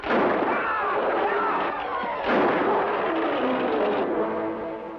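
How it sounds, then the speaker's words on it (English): Rapid bursts of gunfire from an Old West town crackle and boom continuously, loud and dense, with one sharper blast partway through. "No, gunshots. They came from town."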